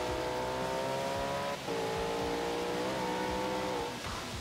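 BMW 1M engine in the racing game Forza Horizon 3 drones steadily with strong harmonic tone, shifting pitch briefly around the middle and again later as it revs, loud and continuous throughout.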